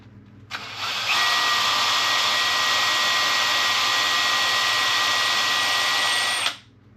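A steady, high-pitched drill whine as the bit bores into hard metal, running for about six seconds at constant strain, starting abruptly and cutting off sharply, loud and close.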